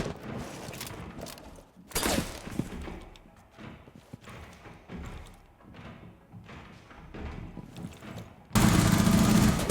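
Rainbow Six Siege match with scattered gunshots and thuds over low game ambience, separated by quieter stretches, ending in a loud continuous burst of noise.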